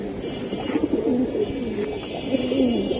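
Giribaz pigeons coo softly in a Bangladeshi pigeon market, low repeated throaty calls in steady bursts over a busy background hum.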